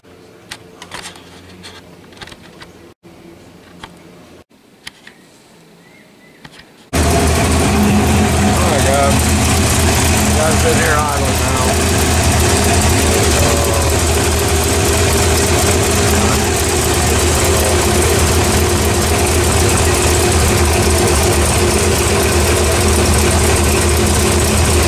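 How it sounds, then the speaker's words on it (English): A car engine idles loud and steady for about eighteen seconds after firing up, following a quieter stretch with faint background noise; the car's hard fuel line is being replaced with AN hose. "Sitting here idling now."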